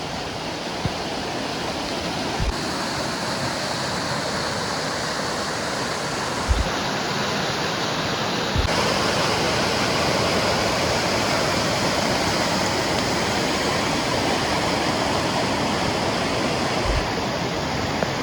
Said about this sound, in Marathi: पूर्ण असं पाणी वाहत जाताना दिसतंय